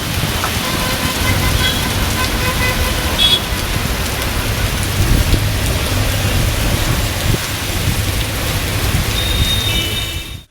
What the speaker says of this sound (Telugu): ఎడతెరిపి లేకుండా వర్షం కురిసింది.